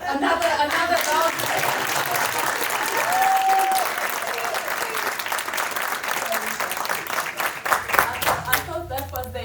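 A conference audience applauds steadily, the clapping swelling and then tapering off, with a voice speaking over it near the end.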